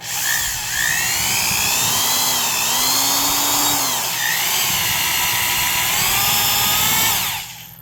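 A 1980s Black & Decker heavy duty 3/8 inch carpenter's drill with fresh gear grease runs alone, a loud steady whine whose pitch slides up and down as the speed changes, then winds down at the end.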